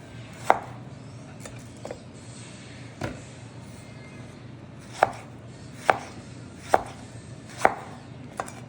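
Knife cutting tomatoes into wedges on a cutting board for tomato fish soup: a slow, irregular series of sharp, distinct chops, each blade strike hitting the board clearly over quiet kitchen background.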